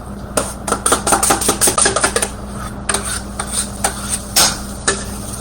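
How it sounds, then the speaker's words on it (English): A metal utensil clatters and scrapes against a pan while pancakes are being cooked, with a quick run of sharp clinks followed by slower, scattered knocks and scrapes, close and fairly loud. "I just hit my pan"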